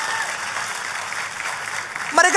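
A church congregation claps in broad, steady applause that fills the space evenly, with a louder burst of sound at the very end.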